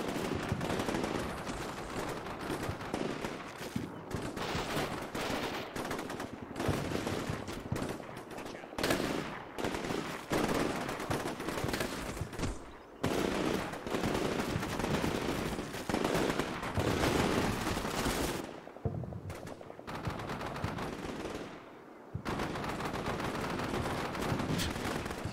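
Gunfire from Combat Mission Shock Force 2, a modern US Army versus Syrian Army battle, runs dense and continuous: rapid machine-gun bursts and scattered shots overlap near and far, with only a few brief lulls.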